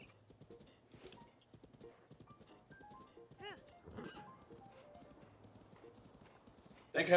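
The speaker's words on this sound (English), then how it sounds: "Thank heavens for this random horse that just happened to appear." A horse's hooves clip-clop at a walk in the Breath of the Wild video game, quiet rhythmic thuds with faint game music, ending with a loud sudden neigh at the close.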